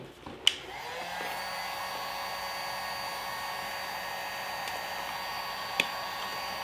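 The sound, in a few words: heat gun heating carbon fiber vinyl wrap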